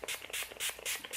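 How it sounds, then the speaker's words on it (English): A vegan face mist is sprayed onto a face as three quick, close, hissing bursts in an even rhythm. "I'm going to just spray it all over my face."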